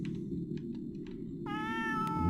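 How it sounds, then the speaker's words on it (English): A cat meows in the Space Pilgrim video game, one drawn-out, rising tonal call arriving partway through over a steady low background hum. "we're gonna talk to the cat"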